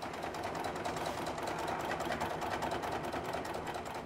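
A sewing machine runs steadily and fast, its needle stitching in a dense, even rhythm throughout, close and fairly loud with no talking.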